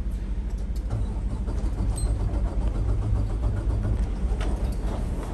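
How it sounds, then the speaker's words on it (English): The 600 hp diesel engine of a 2020 Renegade XL 45 motorcoach idles with a steady, deep rumbling hum, close and continuous throughout. "So I've got the coach started up."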